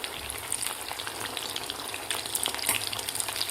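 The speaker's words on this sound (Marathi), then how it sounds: "व्यवस्थित आपल्याला गोल्डन कलर होईपर्यंत आपल्याला हे तळून घ्यायचे आहेत." Fasting medu vada deep-fry in hot oil, sending up a constant crackling sizzle full of tiny sharp pops that swells slightly toward the end, close and steady with no speech.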